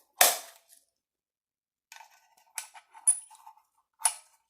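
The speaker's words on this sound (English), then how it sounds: "you can push it in and slide it back like you do a single stack" Double stack pistol magazine handled near and alone: one sharp metallic snap, then a pause and several short clicks and rattles as cartridges and the magazine are worked.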